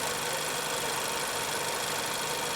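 A well-maintained 1500 cc manual car idles with an engine that has never been overhauled, giving a steady, even running hum with faint knocking texture throughout and no voices.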